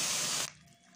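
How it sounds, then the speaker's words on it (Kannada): Water poured into a pan of jaggery gives a loud, dense hiss for about half a second, then cuts off to a quiet background. "1¼ ಕಪ್ನಷ್ಟು ನೀರು ಹಾಕ್ತಿದ್ದೀನಿ."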